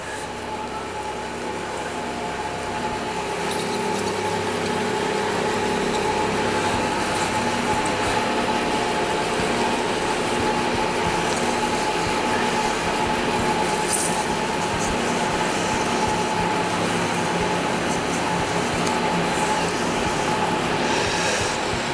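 A wood lathe runs steadily while a shaving brush handle is wet sanded, a continuous dense whirring drone that holds at an even, fairly loud level with no talking.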